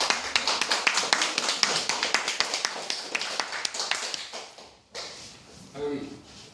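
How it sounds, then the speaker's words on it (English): A small audience at a poetry reading claps in a steady, fairly close rhythm that thins out and fades, followed by a brief pause and a few scattered sounds. "If you could hold the clapping until I'm done"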